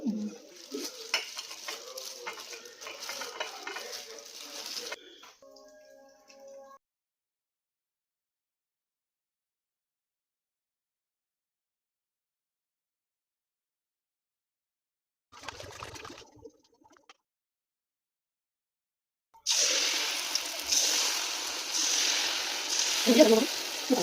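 Dates fry in a pan as an evening snack, with sizzling and utensil scraping in bursts separated by long silent gaps, then a louder stretch of frying at the end.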